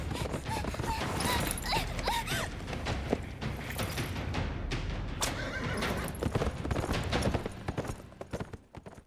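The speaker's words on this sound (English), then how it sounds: "She tries to get her horse ready, but it runs off when she panics" Horse hooves clatter at a gallop while the horse neighs several times in Attack on Titan 2, with a busy layer of game action noise running throughout.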